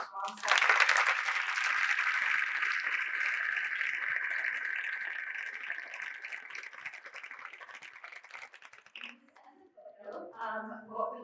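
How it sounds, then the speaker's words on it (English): Audience applause at a high school National Honor Society induction ceremony, a dense sustained round of clapping from a crowd in a hall that fades after about nine seconds, followed by a voice speaking. "please join me in one final round of applause for the newest members of the Swampscott"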